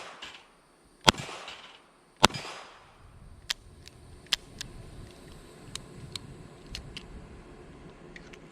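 A Chiappa Rhino DS40 revolver fired double action at outdoor targets, two sharp close shots early on, then a string of fainter, spaced cracks over a steady background hiss.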